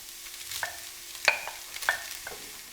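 A spoon stirs spicy tomato mince and cooked vegetables in a pan for chilli con carne, giving a few soft scraping sweeps and clinks over a quiet background with no talking.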